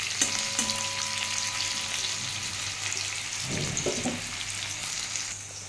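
Bitter gourd frying in hot oil in a pan, a close and fairly loud continuous crackling sizzle, with a few brief stirring scrapes near the middle and no talking.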